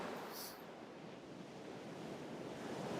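Surf washing onto a beach on Bruny Island as the tide comes in, a continuous broad roar of breaking waves mixed with wind buffeting the mic, fairly faint and with no talking.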